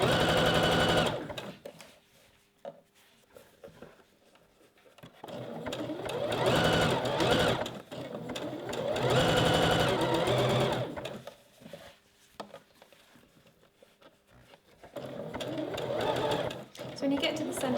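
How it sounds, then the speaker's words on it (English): A sewing machine topstitches elastic on a bra with a 3-step zigzag stitch, loud rapid needle chatter running in several bursts with short pauses, a voice talking over it. "just top stitch with the same 3-step zigzag stitch we've just used all the way"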